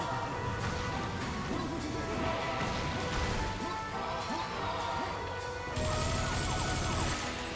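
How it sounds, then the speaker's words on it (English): Glass smashing in the shooter game Serious Sam II: a crashing, shattering burst inside a dense, continuous wash of loud game noise, with bright ringing tones rising near the end. "It makes a glass sound."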